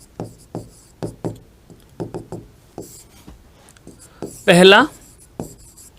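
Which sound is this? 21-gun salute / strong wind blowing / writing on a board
writing on a board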